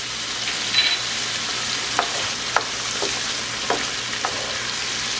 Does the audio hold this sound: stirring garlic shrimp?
yes